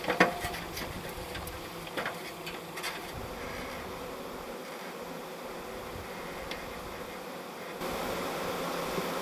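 Honeybees hum in a steady, dense drone while being rescued from the ceiling of a farm building, a continuous buzzing texture close by with a few brief knocks and scrapes.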